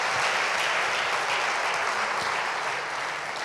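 A church congregation applauding, dense and continuous clapping filling the whole stretch at an even level, with no voices standing out.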